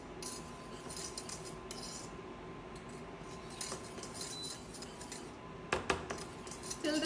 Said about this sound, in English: whisking this.